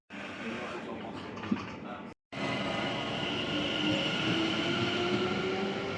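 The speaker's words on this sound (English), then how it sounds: "That's the London Overground at South Tottenham." A London Overground train rolls over a railway bridge at South Tottenham, a loud continuous rumble with rising wheel squeal and brief clatter, the roar cutting out for a moment before resuming at full strength.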